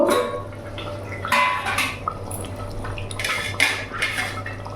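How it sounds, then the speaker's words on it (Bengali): A metal lid lifted off a pot of handi chicken with potatoes cooking over a gas flame, giving a few light clinks and scrapes over a steady low hum. "এবার আমি ঢাকাটা খুলে দেখব।"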